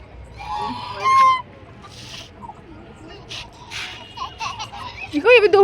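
Ducks and geese honk in a series of short, nasal calls, with a louder burst of rapid honks near the end, while people talk and laugh nearby.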